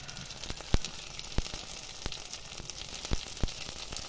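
Garlic, tomato, green chili, ginger paste and coriander paste sauté in a hot pan with a steady crackling sizzle, broken by sharp pops and occasional stirring scrapes.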